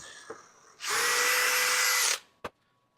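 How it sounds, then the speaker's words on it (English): A power drill whirs at high speed for about a second and a half, a loud steady whine close by, followed by a sharp click. "I'm just going to drill two up here"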